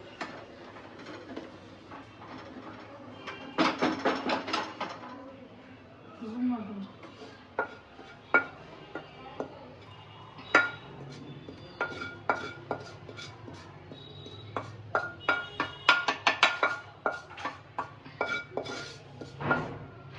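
Fried chicken for Mangalorian chicken sukka is moved from the pan onto a plate, with metal spoon scrapes and clinks against cookware in bursts of clatter between quieter pauses.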